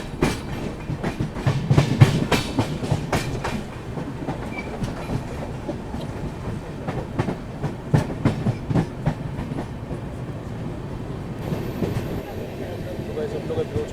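The Rajdhani Express rolls along the tracks approaching Vasai Road station, a steady rhythmic clickety-clack of wheels over rail joints under a continuous rumble, heard from on board.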